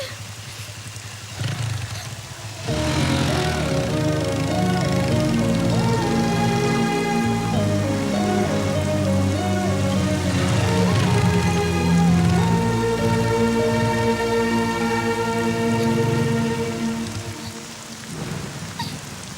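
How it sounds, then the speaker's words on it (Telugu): Heavy rain falls steadily, a dense continuous hiss heard under a film score of sustained melodic music and swelling tones. "వర్షం పడుతుంది"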